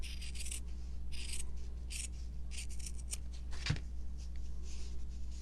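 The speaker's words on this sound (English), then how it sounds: "Those blue scissors are not fabric scissors." Blue scissors snipping fabric at a craft table, a series of quiet, crisp cutting and rubbing strokes in an irregular rhythm, close but soft.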